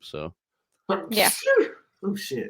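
A single sharp sneeze bursts out in the middle of casual conversation, with people talking just before and just after it.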